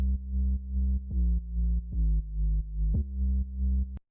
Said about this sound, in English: That sub bass sounds like this on its own.